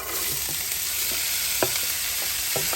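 Mixed vegetables, green peas, carrots, onions and kale leaves, fry in oil in a pan with a dense, even sizzle up close and a few sharp spatula knocks, no speech.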